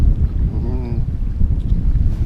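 Strong wind buffeting a fishing boat drifting without a motor on a lake during pike fishing, a loud, rumbling, gusty roar against the microphone, with a brief faint voice mixed in.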